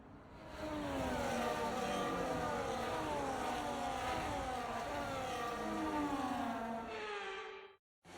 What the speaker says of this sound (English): the formation lap gets underway and the excitement here is building as we near ever closer to the start of the race